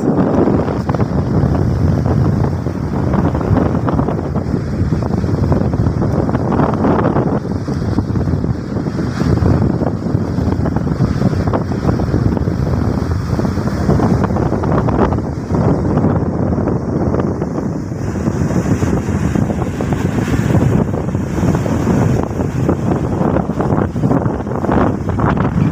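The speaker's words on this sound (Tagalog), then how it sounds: "Sobrang lakas ng hangin." Strong typhoon wind batters the microphone in a continuous loud roar and buffeting rumble, with gusts surging and easing, near a coastal village where boats are pulled up on shore.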